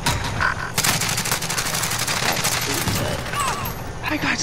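Continuous automatic gunfire in Call of Duty Warzone, loud rapid bursts close by with steady background battle noise, while a player's voice is partly heard beneath it.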